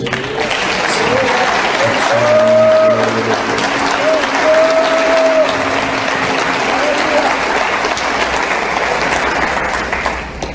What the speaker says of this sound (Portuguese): aplaudir esse Deus maravilhoso?